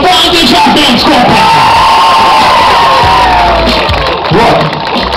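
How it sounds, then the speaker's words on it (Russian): Large crowd at a dance day event cheering, whooping and yelling loudly, a continuous roar of voices with shouts and hollers rising over it, clapping mixed in. "сейчас будет море аплодисментов"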